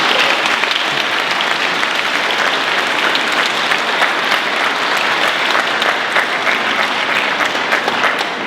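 A large audience at a high school concert applauds loudly and steadily, the dense clapping going on without a break after a piano piece.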